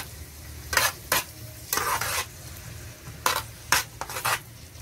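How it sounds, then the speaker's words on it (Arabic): Chicken gizzards sauté in a mix of ghee and oil. A steady sizzle runs throughout, broken by several sharp, close scrapes and stirs of a utensil against the pan, with no voices. "القوانص يا جماعه اشوحها تشويحه"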